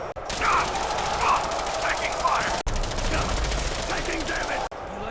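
Rapid automatic gunfire from a Fallout 4 firefight rattles in a dense, continuous burst for several seconds, with brief pauses, loud and close.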